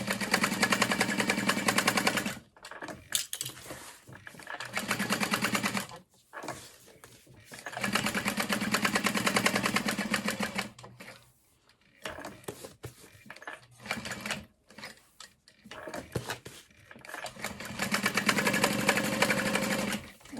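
A sewing machine top stitches a fabric backpack panel, running in steady bursts of rapid stitching separated by short pauses as the work is turned, loud and close with no talking.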